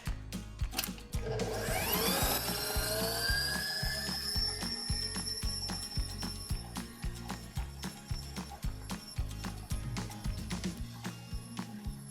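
A stand mixer beats batter for a Guinness chocolate cake with a steady motor whine that rises in pitch as it spins up, overlaid by a rhythmic knocking of the beater in the bowl throughout.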